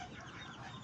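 Hens clucking softly in a muddy, rain-soaked yard with perches, heard as a faint, brief murmur under steady background noise.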